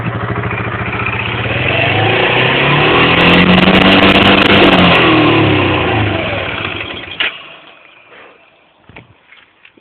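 A hot Grizzly ATV engine runs close and loud, revving up to a sustained roar before dropping back. It cuts off into quiet, with scattered clicks and knocks at the end.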